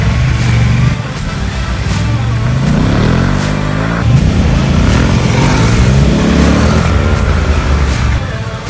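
A motorcycle with a Jekill & Hyde exhaust revs repeatedly in a sandpit, its loud engine note rising and falling under continuous rumble and wind.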